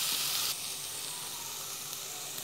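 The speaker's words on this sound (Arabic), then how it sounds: "وهقلب برده كمان تتشوح البصله شويه كمان مع نفسها" Onion and garlic sizzle steadily while sautéing in a pan, a soft continuous hiss that is a little louder at first and then holds level, with no voices.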